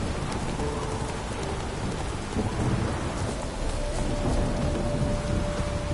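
Rain and thunder in the video game The Witcher 3, a dense, steady downpour with continuous low rumbling of thunder throughout, loud and immersive with no talk.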